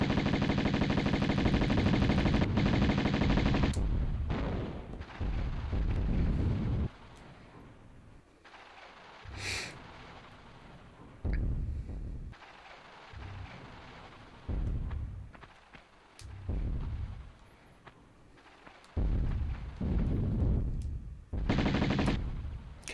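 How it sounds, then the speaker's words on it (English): Explosions and gunfire from creatures blowing up in the Tomb Raider video game: loud bursts of rattling fire and blasts in uneven clusters, separated by quieter stretches. "Come on, beasties, explode!"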